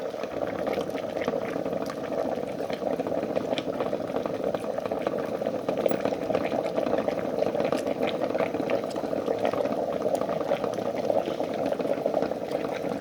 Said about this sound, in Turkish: Su kaynadıkça balmumuz eriyecek.